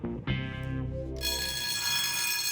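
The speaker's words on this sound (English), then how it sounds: "Even some dodgy disco moves don't set off the alarm, at least until his headgear falls off." A security alarm goes off in a test of high-tech fingerprint locks: a low droning tone gives way to a loud, harsh, continuous electronic ringing that keeps going to the end.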